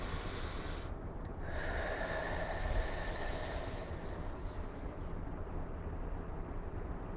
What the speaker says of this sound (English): Let's do one more deep breath here.